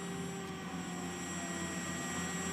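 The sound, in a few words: Caïman Marine helicopter preparing for takeoff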